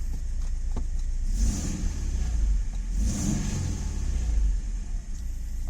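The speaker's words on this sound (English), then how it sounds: "this engine sounds deeper than the one in my 33" An Alfa Romeo 146 1.6 boxer engine rumbles low and steady, swelling in two revs before settling back to a deep idle.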